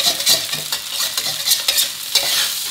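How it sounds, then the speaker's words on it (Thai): Rice stir-fried with canned fish in a wok over high heat: loud close sizzling and repeated scraping stirs of the spatula against the pan, in quick irregular strokes, with no talk. "ผัดด้วยไฟแรงนะจะผัดได้หอมอร่อยครับ"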